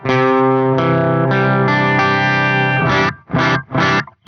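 A RecHead cassette-recorder guitar pedal squashes and clips a sustained, harmonically rich guitar chord into dense overdrive, followed by three short choppy stabs, loud and alone.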